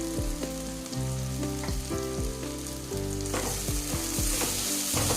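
Chilli powder, turmeric and coriander powder sizzling in hot oil in a pan while being stirred for vegetable masala bath, a loud continuous fry with repeated scraping strokes of a spoon throughout.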